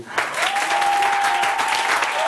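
Church congregation applauding in praise, dense clapping from many hands throughout, with a sustained voice or tone audible beneath.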